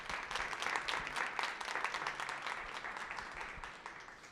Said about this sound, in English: I want to give them a round of applause for all the hard work they did